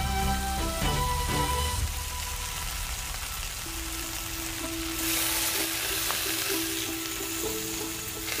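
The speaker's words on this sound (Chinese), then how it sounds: "经过小火慢煎" A whole farmed milkfish pan-fries slowly over low heat, producing a continuous close sizzle and crackle with faint tonal background sounds and no speech.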